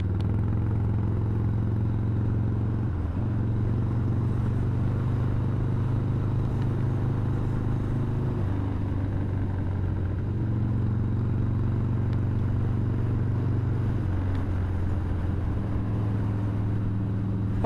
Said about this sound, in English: All right, you guys want some engine noise?